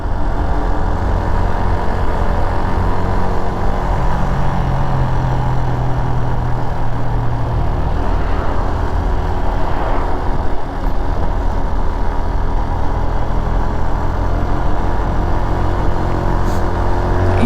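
A 125cc motorcycle engine runs loud and close with a steady, even mechanical drone and no speech.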